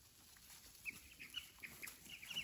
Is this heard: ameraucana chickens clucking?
yes